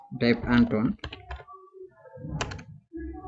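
A short burst of computer keyboard typing while entering a font name in Canva, with quick clicks falling between stretches of a person talking.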